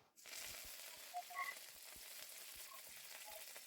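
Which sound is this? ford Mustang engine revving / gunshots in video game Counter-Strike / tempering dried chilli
tempering dried chilli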